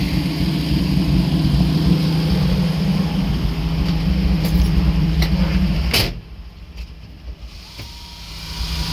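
Truck engine noise runs steadily, then cuts off abruptly as the clutch is pushed all the way in, leaving a quieter cab with faint wind and a few clicks.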